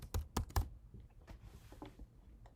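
Several quick keystrokes tapped on a computer keyboard while a name is entered during an online payment form, a few louder clicks near the start followed by softer, sparser taps, close and quiet.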